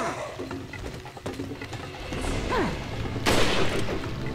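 Gunfire in the survival horror game Resident Evil 4 Ultimate HD, a few sharp in-game shots and impacts amid clattering mechanical effects and rising background noise, loudest toward the end.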